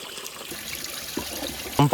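Mountain spring water trickling in the hills, a soft, steady dribble heard close by, with a voice breaking in briefly at the very end.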